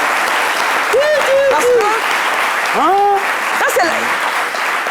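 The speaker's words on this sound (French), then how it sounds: "Est-ce qu'on peut applaudir pour la maman avant qu'elle commence?" A television studio audience applauds in a steady, dense wash of clapping that fills the whole stretch, with voices speaking over it.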